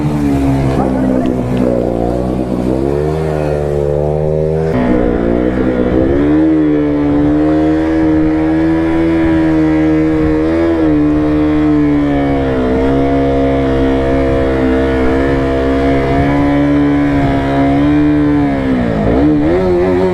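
A motorcycle that is breaking down during a rough ride near an old temple keeps running with a steady, droning engine note that rises and dips as it is revved. Voices talk over it now and then.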